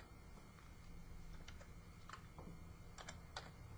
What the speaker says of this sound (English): And so we'll type in these values.